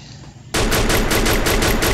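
Rapid automatic gunfire from the Free Fire mobile battle royale game bursts in abruptly and hammers on in a steady, loud, evenly spaced string of shots.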